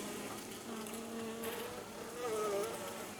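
An Asian hornet buzzes steadily nearby, its drone rising and falling in pitch as it moves about, faint and continuous outdoors.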